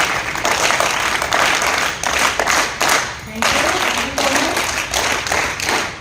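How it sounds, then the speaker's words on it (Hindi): An audience of students claps at the opening of an NSS camp at a school, honouring the principal and a teacher. The applause is dense, steady and close, running unbroken for several seconds. "तो एक बार जोरदार तालियां मैम के लिए"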